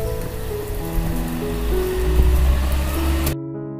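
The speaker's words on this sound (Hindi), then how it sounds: "झिपि झिपि टिके वर्षा होछि" Light drizzle patters steadily on surfaces, a continuous close wash of rain with a faint low hum beneath, ending abruptly.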